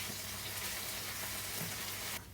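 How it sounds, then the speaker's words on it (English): Onion and chili frying in a pan, stirred with a wooden spoon, a loud steady sizzle that cuts off abruptly near the end. "Let the onion get gold."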